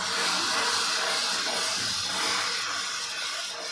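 Milk poured a little at a time into hot coconut caramel sputters, producing a loud, steady hiss that eases slightly toward the end.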